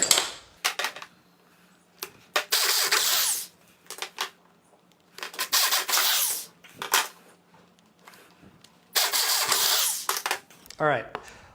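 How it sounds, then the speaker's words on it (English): A power drill bores a set of holes partway through the first layer of a homemade camera dolly base, running in three loud bursts of whining drilling separated by short pauses and handling clatter. "We're going to drill one other set of holes about 1 inch further in from each of those holes, just through the first layer though"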